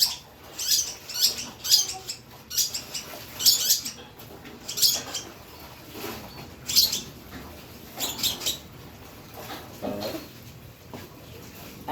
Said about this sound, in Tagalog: Babahog tayo ng ibon, guys.